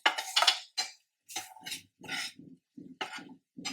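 Cashews and turmeric being mixed in a bowl: a string of short, separate clinks and scrapes as a spoon strikes the dish, with quiet gaps between the strokes and no talk.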